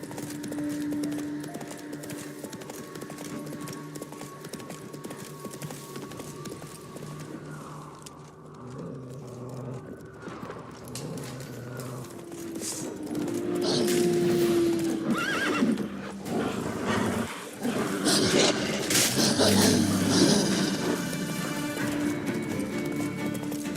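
A horse in the Witcher 3 video game gallops with rhythmic hoofbeats and neighs several times, with game ambience and music underneath that grows louder in the second half.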